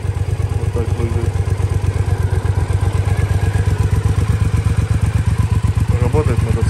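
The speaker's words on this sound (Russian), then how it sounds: "Работает мотоцикл отлично." A 2013 Triumph Speedmaster motorcycle engine runs steadily close by, its low, even exhaust thumping in a fast, regular rhythm throughout, with faint background voices.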